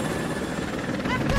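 A helicopter in the video game Rise of the Tomb Raider roars in a dense, steady rotor rumble, loud and close, with a voice speaking over it.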